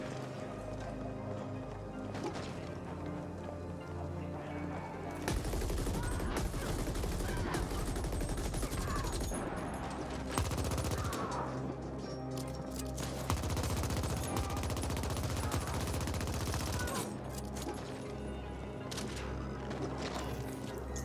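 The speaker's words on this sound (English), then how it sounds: "The gun sounds are very satisfying." Rapid gunfire in the sci-fi shooter The Ascent, dense bursts of shots rattling over a steady game soundtrack, continuing loud for most of the stretch with brief lulls.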